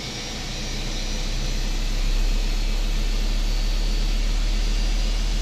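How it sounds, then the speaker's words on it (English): Airliner engine running steadily just after start on departure from Queenstown, a loud constant roar with deep low rumble and broad hiss that swells slightly and then holds level. "Okay, that's our engine pretty much started."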